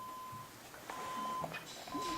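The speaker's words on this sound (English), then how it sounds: "we need to deal with that beep" A thin electronic beep sounds steadily, pausing and returning a few times, faint beneath low room noise and shuffling.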